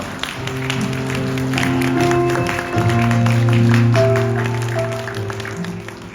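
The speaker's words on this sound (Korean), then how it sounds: "큰 박수로 두 사람을 축복해 주시기 바랍니다" A wedding crowd applauds with steady clapping while sustained musical tones play alongside, moderately loud throughout.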